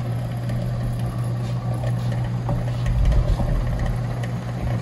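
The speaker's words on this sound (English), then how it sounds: "We're cutting a drum on this." A Hunter 205 brake lathe cutting a brake drum, giving a loud, steady mechanical drone with a low humming tone and a faint scraping rattle that swells slightly toward the end.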